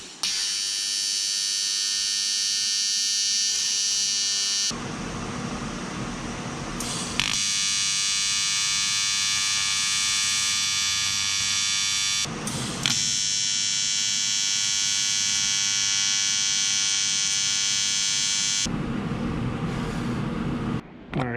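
Small CNC mill machining an aluminum intercooler bracket for a race car, a steady high-pitched whine and hum that shifts pitch between cutting passes, close and continuous.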